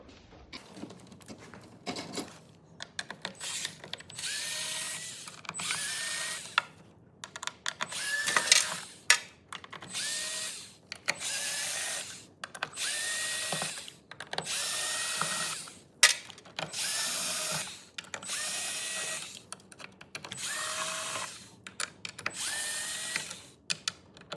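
Cordless drill backing out the back plate screws on a Minn Kota Ultrex trolling motor, repeated whirring bursts of a few seconds each with ratcheting clicks and brief pauses between them, close and fairly quiet.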